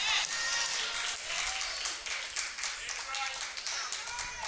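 An audience claps steadily throughout, a bright crackle of many hands that slowly thins and softens toward the end, with voices faintly mixed in.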